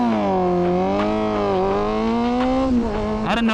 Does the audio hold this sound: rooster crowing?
no